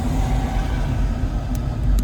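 Steady rumble of traffic on Highway 101 southbound in San Jose, California, with cars rolling past close by in a continuous, fairly loud wash of road noise and no talking.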